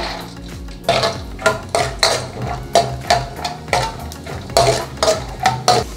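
Peanuts in hot oil are stirred in a pan for tempering rice, producing a rhythmic scraping and clattering of the spoon against the metal about twice a second over a faint sizzle.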